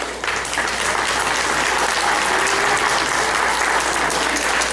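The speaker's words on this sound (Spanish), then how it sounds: "aplauso muy fuerte" Loud, sustained applause from an audience at a kindergarten Catrina parade in Naolinco, held for a teacher, steady and dense throughout with no talk over it.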